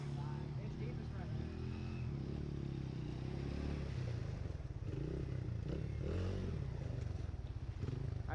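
A pit bike engine revs and sputters while pushed through deep water, churning and splashing nearby, with voices talking over it.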